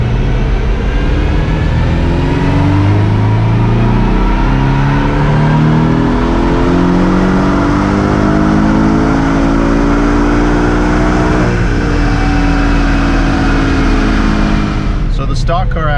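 A Porsche 718 Cayman with a 2.0-litre turbocharged engine pulls hard on a dyno, its loud, steady drone climbing in pitch through a long sustained run before cutting off near the end.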